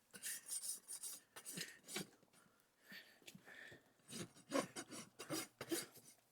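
A farrier's rasp scrapes a horse's hoof in a quick series of short, harsh strokes with brief pauses between them, quiet and close with no talk.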